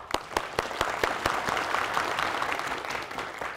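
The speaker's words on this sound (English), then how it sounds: "Here we go, clap it up." A men's American football team claps together at a practice session in Great Britain, a dense burst of hand claps that starts with a few sharp strokes and then merges into a steady wash of applause.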